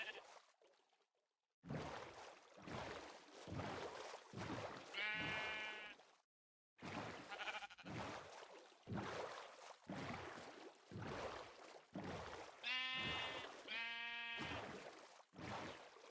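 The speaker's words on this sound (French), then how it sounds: "Moi, j'ai que des moutons noirs." Sheep bleating in a Minecraft-style video game, several distinct harmonic bleats standing out over a steady background of game noise and water, with a short silent gap partway through.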